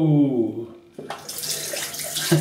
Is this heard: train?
no